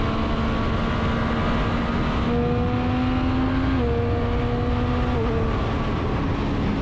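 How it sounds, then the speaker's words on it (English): A 2023 Triumph Street Triple 765 RS engine pulls hard while riding on the road, its tone rising through the gears with brief drops at each shift, loud and steady under heavy wind rush. "Just listen, I'll wind it up, listen to this engine."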